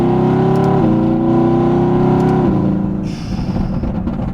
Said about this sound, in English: show you guys how amazing these downshifts sound